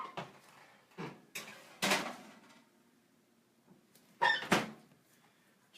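An oven door swung open and shut while loading trays of nacho toppings and buffalo cauliflower bites in a home kitchen, giving a few separate clunks and clatters of metal and hinge, close and fairly loud, with quiet gaps between.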